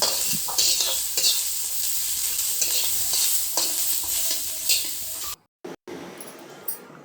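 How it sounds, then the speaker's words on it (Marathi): Chopped onion sautéing in a pan for a homemade leafy greens dish, a loud continuous sizzle with repeated stirring scrapes, close to the pan, cutting off abruptly near the end, followed by quieter faint sounds. "कांदा मस्त परतून झालेला आहे"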